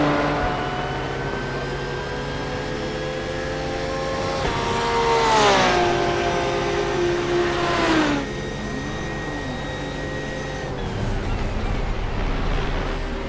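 A GT3 race car engine in iRacing holds a steady, high-pitched drone, then drops pitch in two quick downshifts with brief louder blips. It settles back into a sustained whine near the end.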